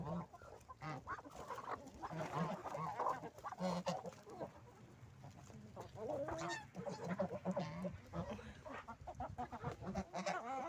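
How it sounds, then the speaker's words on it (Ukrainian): A flock of geese honking and chickens clucking close by at evening feeding, overlapping calls in a busy, continuous chatter. "Вечеря у гусей і курей."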